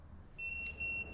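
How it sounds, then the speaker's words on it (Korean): A door lock's wrong-password alarm sounds as a sound effect: two bright, shrill electronic beep sequences in quick succession over a faint background hiss. "그리고 틀렸다고 울리는 경보음까지 들려왔다."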